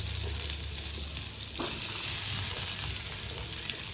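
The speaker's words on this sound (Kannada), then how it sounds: "ಬಟರ್ನ ಪ್ಯಾನ್ ಒಳಗೆ ಹಾಕ್ಕೊಂಡು ಪನ್ನೀರ್ನ ಅದರೊಳಗೆ ಫ್ರೈ ಮಾಡಬೇಕು." Paneer frying in butter in a pan gives a close, steady sizzle and hiss that swells slightly partway through, with faint stirring underneath.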